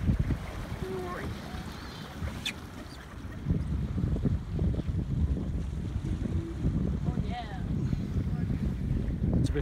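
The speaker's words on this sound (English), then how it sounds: "We've got almost 7 knots of breeze." Wind gusting over a sailboat moving in almost 7 knots of breeze, a constant rushing roar with buffeting on the microphone, water splashing and faint voices in the background.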